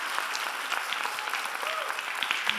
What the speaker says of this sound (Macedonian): Голем аплауз за овој прекрасен театар